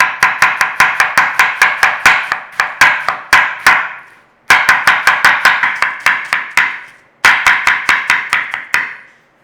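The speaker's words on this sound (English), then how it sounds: "So shred your cabbage any which way that you want." Rapid knife chops shredding cabbage on a cutting board for German fried potatoes, three loud, close bursts of quick rhythmic strikes with brief pauses between them, no voices.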